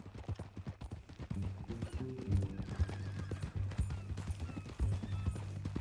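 A horse in the Red Dead Redemption 2 video game clops along with steady hoofbeats and lets out a couple of clear whinnies, close and prominent over a mechanical background.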